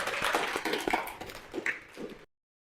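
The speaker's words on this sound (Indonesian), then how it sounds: "Tepuk tangan buat yang bertanya" A small academic audience at a university lecturer-certification session claps briefly for a questioner, a short burst of scattered hand claps that fades out quickly, with no voices.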